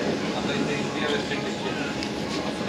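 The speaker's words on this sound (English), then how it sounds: "it's a Comeng EDI set, bound for Flinders Street, departing now" A Comeng EDI electric train departs near Essendon, bound for Flinders Street, giving a steady, loud rumble of rolling carriages with faint clatter throughout.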